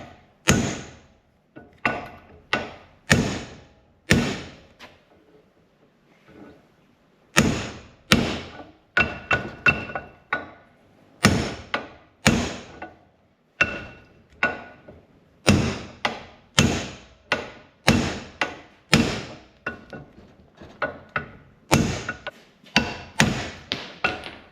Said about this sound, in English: Just kind of hammered it out with the ball peen, hammer on hammer.